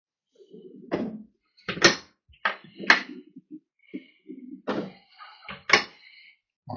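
Drawers in an IVECO Daily-based 2024 Latitude Element 27 motorhome are pulled open and pushed shut, a run of close, sharp knocks and sliding thuds with short gaps between them.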